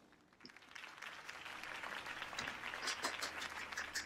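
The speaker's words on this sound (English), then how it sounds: "Applause" Crowd applause after a campaign speech in the video game Batman: The Telltale Series, a steady moderate clapping that swells and holds, heard alone without talk.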